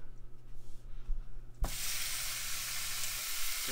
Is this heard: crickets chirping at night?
no